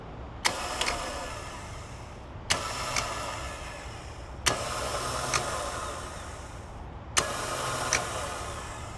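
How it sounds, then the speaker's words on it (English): Starter motor with its Bendix drive engaging the ring gear on an engine, cranking in four separate bursts of roughly two seconds each, each beginning with a sharp click, heard close and loud with no talking. "we're going to see if the Bendix kicks this out and engages that starter drive"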